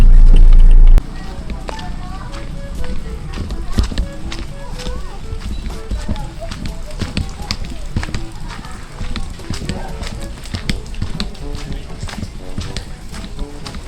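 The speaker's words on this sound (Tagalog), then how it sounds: "Malakas ang ulan." Heavy rain pours down in a dense, steady roar of close drop impacts after a short louder burst at the start, with faint muffled voices underneath.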